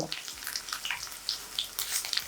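Mustard seeds, urad dal, cumin and dried red chili fry in hot oil for an ivy gourd dish, giving a soft, close, continuous sizzle with small popping crackles scattered throughout.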